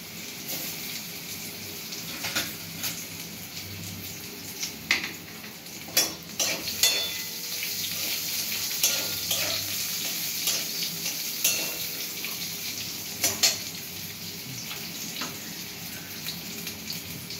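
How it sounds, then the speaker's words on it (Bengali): Cut mango pieces slide into hot oil already seasoned with two dried red chillies and black mustard seeds, giving a steady sizzle and crackle with a few louder spits and stirring scrapes while frying for a Bengali mourala fish and mango kasundi dish. "এবার তেলের মধ্যে আমরা কেটে রাখা আমগুলো দিয়ে দেব।"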